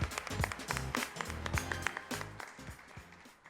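A graduation audience applauds with scattered clapping that fades gradually over a few seconds, quiet and somewhat distant.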